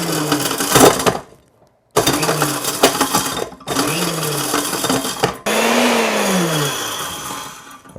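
An industrial grinder with a clamping lid pulverizes hard chaga mushroom pieces, a loud whirring roar with rattling cracks and a motor pitch that rises as it spins up, run in several bursts separated by brief silences.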